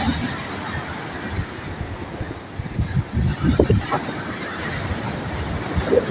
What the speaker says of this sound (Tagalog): Grabe kung makahampas yung alon sa amin.